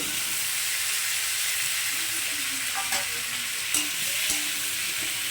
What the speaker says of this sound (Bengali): এগুলো সব একটু ভালো করে কষিয়ে নেবো